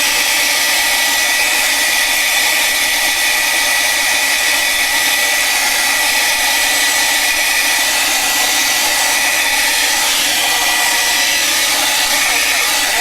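Continuous loud blowing of a hair dryer used to dry paint in an art journal, a steady airy roar lasting the whole stretch, with faint talk underneath.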